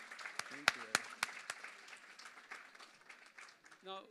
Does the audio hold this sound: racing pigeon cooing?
no